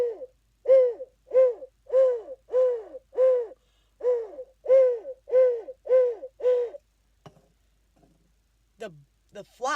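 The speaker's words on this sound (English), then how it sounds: "The owl call." A sound-effect owl call: a long even series of about a dozen rhythmic hoots, loud and close, then a pause and a few scattered fainter calls at the end.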